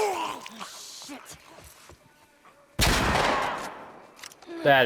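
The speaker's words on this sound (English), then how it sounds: "The shotguns in this game will absolutely obliterate you." A sudden loud shotgun-like blast from The Last of Us cuts in after scattered quieter game sounds and a voice, followed by a decaying roar, then another sharp hit at the very end.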